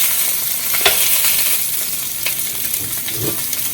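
Italian sausages sizzling and frying in a pan, a steady loud hiss with scattered pops and a few clinks of turning them, close by and without speech.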